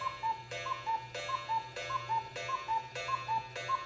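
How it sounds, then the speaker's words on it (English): A chiming clock repeats a two-note cuckoo-like call over and over in a steady rhythm, with soft ticks between the notes; no voices. "Just as the cuckoo clock said cuckoo for the 7th time, Aloysius"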